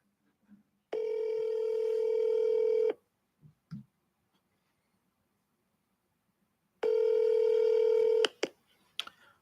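Telephone ringback tones sound while a call is placed, two long steady buzzing tones separated by silence, with a few faint clicks and taps between and after them.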